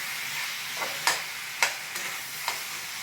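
A tomato side dish, tomato thokku, cooks down in oil in a pan, giving a faint continuous sizzle broken by four or five crisp ladle taps and stirs, close by with no talking.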